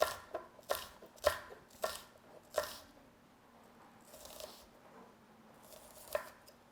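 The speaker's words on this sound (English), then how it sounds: "So I want to chop this really fine." Food being chopped finely on a board for a small tomato salad, with a run of sharp, evenly spaced knife taps near the start, then quieter scattered cuts and one last crisp tap.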